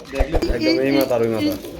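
A pair of pigeons at a bird market coo in soft, rolling low notes beneath someone talking loudly close by.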